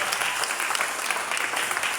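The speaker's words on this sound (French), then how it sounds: "Est-ce que tu peux acclamer la parole de Dieu?" A church congregation applauding together, steady dense clapping that fills the space without a break.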